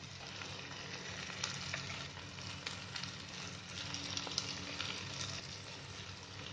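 Steady, crackling sizzle of chicken frying in a kadhai, continuous and fairly close, with occasional sharp pops and no voices.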